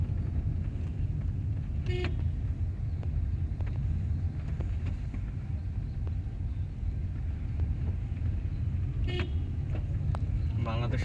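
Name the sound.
car horn honking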